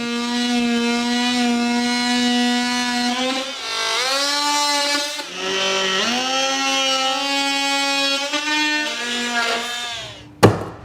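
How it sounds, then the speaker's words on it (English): A DeWalt DWE314K oscillating multi-tool plunge cutting gives a steady, loud buzzing whine that shifts pitch slightly as it bites and eases, running continuously up close before stopping with a sharp knock at the end. "See, just let the machine do the work. You can just plunge down."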